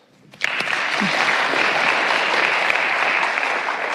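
An audience at a talk on happiness breaks into clapping after a brief quiet start, sustained dense applause filling the room at moderate loudness.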